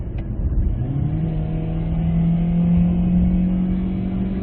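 A Hyundai YF Sonata accelerates, its engine drone rising steadily in pitch under a loud, continuous rumble, with no talk over it.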